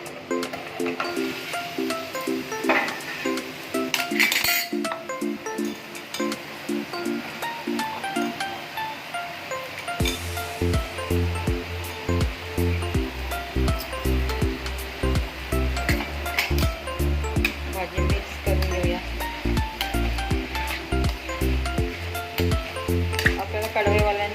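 Thin-sliced potato and bitter val leaf vegetable sizzling in a pan, with steady frying crackle and occasional utensil clinks. The sizzle grows louder and denser after a loud clatter partway through, while a voice talks over it.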